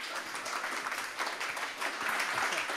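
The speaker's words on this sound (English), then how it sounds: "Everybody give a round of applause for Scott" Audience applause after a speaker is introduced at a tech talk on web build systems: dense, steady clapping from a sizable crowd that holds without pause, fairly close and with no talk.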